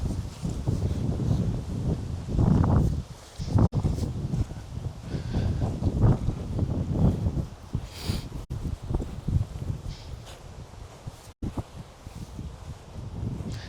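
Strong gusts buffet a microphone outdoors during a walk with a horse, giving uneven low rumbling bursts that rise and fall, with faint rustling and a few sharp clicks.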